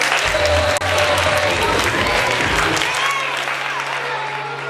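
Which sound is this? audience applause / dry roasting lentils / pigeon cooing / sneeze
audience applause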